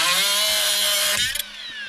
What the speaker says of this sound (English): Yeah, I'm using cutting stuff around batteries.